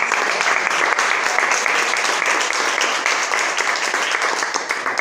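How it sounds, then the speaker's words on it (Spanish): A church congregation gives loud, sustained applause, many hands clapping together in a thick, even roar that holds steady for several seconds. "Dale un fuerte aplauso al Señor Jesús."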